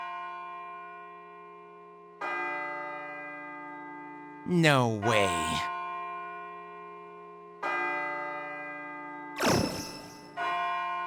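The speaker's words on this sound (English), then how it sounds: "It sounds like a bell, but where's it coming from?" Tolling bell in the video game Persona 3 on PS2, slow deep strikes with long ringing decays, each struck three times over the clip, with brief speech between strikes.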